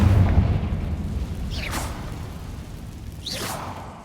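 A Confringo spell from Hogwarts Legacy bursts twice, each cast a bright rising whoosh flaring into a blast, over a steady low rumble of game ambience.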